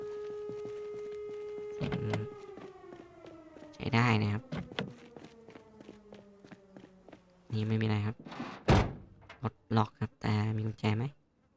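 Air raid warning siren from the Project Zomboid video game, a steady tone slowly falling in pitch before fading, followed by loud bursts of other game noise and footstep-like thumps.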